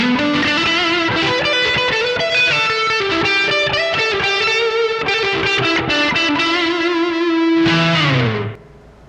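An electric guitar lead played through the neck pickup with distortion and reverb: a loud, sustained run of bent and sliding notes, thick and buzzy, ending on a held note that rings out and decays.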